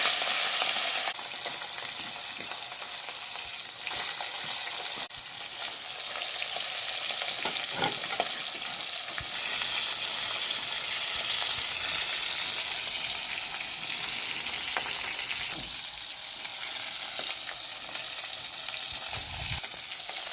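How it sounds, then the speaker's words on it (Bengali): Tangra fish frying in hot mustard oil, a loud, steady sizzle with crackling spatter and occasional stirring scrapes, heard close up and alone without voices throughout. "তেলটা গরম হয়ে গেছে দিয়ে দিচ্ছি ট্যাংরা মাছ"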